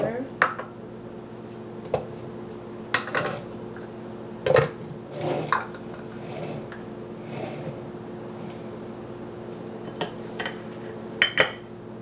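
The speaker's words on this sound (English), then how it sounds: "So I'll put all the ingredients into the blender." Smoothie ingredients dropped into a blender jar, a series of close clinks, thuds and taps scattered over several seconds against a quiet kitchen hum, with someone talking.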